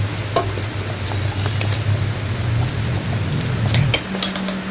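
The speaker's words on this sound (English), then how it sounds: "mix well again." Spicy potato fritter batter being mixed in a bowl, a continuous wet churning swish with a few light knocks against the bowl, steady and close throughout.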